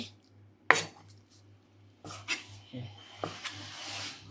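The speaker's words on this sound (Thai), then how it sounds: "ถ้าเราหั่นเตรียมไว้แบบนี้ก็ง่ายนะคะ" A knife chops fried chicken on a cutting board in a few uneven strikes, with kitchen clatter and a voice talking quietly in the background.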